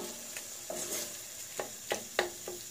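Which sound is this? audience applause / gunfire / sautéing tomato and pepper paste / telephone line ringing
sautéing tomato and pepper paste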